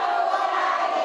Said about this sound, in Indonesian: Masalah tepuk tangannya lagi luar biasa.